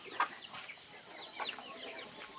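Chickens and newly hatched chicks on a small farm, making soft clucks and high chirps that come close together in short bursts at a moderate distance over quiet outdoor background.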